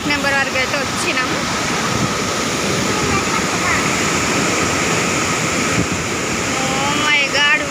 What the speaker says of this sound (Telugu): వాటర్ సౌండ్ అయితే వేరే లెవెల్ గైస్. ఎంత సౌండ్ వస్తుందో అసలు వాటర్ గేట్ ఓపెన్ చేసినందుకు.